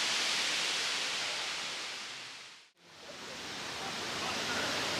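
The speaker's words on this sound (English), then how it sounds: "I'm walking to a waterfall called Semente" Semente waterfall in Chapada dos Veadeiros, Brazil: a dense, steady roar of falling water, loud and close, that dips briefly to near silence midway before swelling back to full strength.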